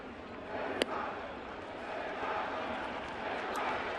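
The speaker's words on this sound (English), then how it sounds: "A-Rod gets the cheer from the bleacher creatures in right center field" Baseball crowd in the right-center field bleachers at a 2015 Blue Jays opening day game, a steady wash of cheering with a couple of sharp whistles rising above it.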